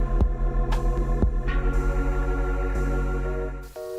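A sewing machine stitches pieces of a dress bodice together, a steady mechanical throbbing hum running close and continuous with a few sharp clicks, then stopping near the end.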